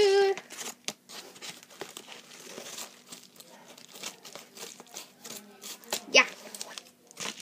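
Crinkling plastic and paper rustles with snipping and tearing as a package is cut open with scissors, with brief murmured speech in between.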